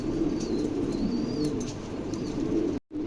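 Pigeons coo softly and continuously over a low background murmur, with a few faint chirps above, ending in a brief cut to silence.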